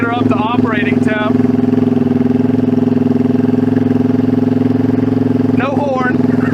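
A 1971 Honda CB350 motorcycle engine idles steadily and a little high, a continuous close rumble with voices talking over it at the start and again near the end.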